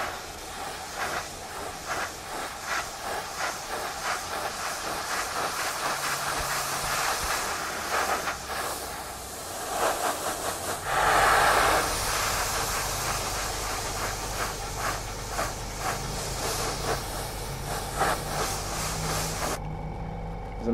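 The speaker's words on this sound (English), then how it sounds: "I'm going to apply an overall coat now of dark brown with the airbrush" An airbrush sprays dark brown Tamiya XF10 flat brown paint onto a model brick building section in a continuous close hiss, with soft clicks and a brief louder burst midway, ending abruptly.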